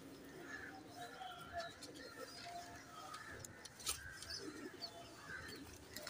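Young Bullet Saharanpuri cross pigeon chicks coo in soft, low, repeated murmurs at close range, with faint chirps and rustling mixed through a steady background murmur.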